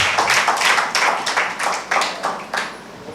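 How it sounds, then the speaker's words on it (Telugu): Children at a Sunday school retreat clap for quiz participants. The clapping comes in rhythmic bursts close by and slowly eases off over a few seconds. "ఇంకోసారి గట్టిగా చప్పట్లు కూడా"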